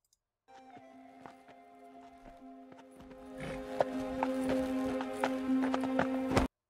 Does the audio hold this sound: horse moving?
yes